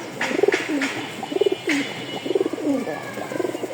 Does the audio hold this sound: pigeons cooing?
yes